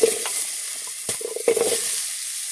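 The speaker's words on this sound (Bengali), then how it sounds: "মাছের তেলে ভেজে নেব আমি আগে" Fish sizzles steadily in hot oil, with a few sharp clinks and scrapes of stirring breaking through the close, continuous hiss; no voices.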